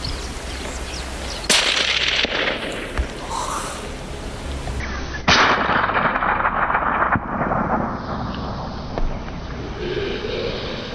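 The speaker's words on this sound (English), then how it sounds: "I tightened my grip and squeezed the trigger. A sharp crack echoed." Rifle shots on a zebra hunt: two sharp, loud cracks a few seconds apart, each trailing into a long rolling echo over wind noise.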